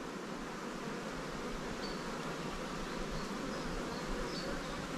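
Honeybees swarm around an open hive during an inspection, their dense, steady buzzing filling the air close by with no break.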